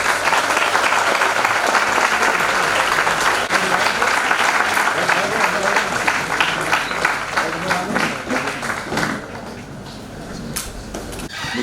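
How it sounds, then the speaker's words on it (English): Audience at an HR conclave conference bursts into sustained applause, dense clapping filling the room for about nine seconds before thinning out, with voices audible underneath. "request you all to welcome them with a loud round of applause"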